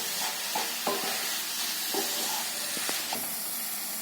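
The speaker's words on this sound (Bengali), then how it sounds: "এবার আমি চিকেনটা দিয়ে দেব। আর একটু ফ্রাই করে নেব।" Chicken frying in a pan, a hissing sizzle with several short scraping stirs spaced through it, close up and free of speech.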